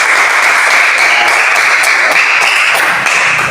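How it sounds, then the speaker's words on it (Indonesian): Loud, dense applause from a classroom group fills the whole stretch, steady clapping close to the microphone with no pauses. "Berikan aplaus dulu kepada kita semua"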